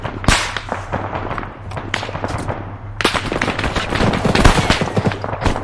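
Rapid bursts of gunfire and sharp shots in the military shooter ArmA 3, cracking repeatedly over several seconds with a steady low engine-like hum underneath, dense and loud throughout.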